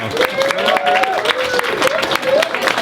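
An audience at a season-end team party claps in a brief, steady patter of applause, moderately loud, while a voice talks over it.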